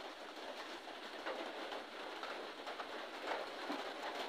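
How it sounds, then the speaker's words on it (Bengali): Heavy rain falls outdoors as a faint, steady, even hiss heard from indoors, with no voices and no gaps. "বাইরে প্রচুর পরিমাণে বৃষ্টি হচ্ছে"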